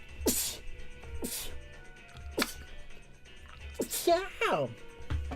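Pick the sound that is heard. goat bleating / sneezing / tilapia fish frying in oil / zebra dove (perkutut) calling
sneezing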